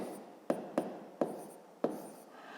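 A pen writes by hand on paper during a math exercise, producing four or five sharp taps and short scratching strokes spaced irregularly, close and quiet.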